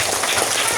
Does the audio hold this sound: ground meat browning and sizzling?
no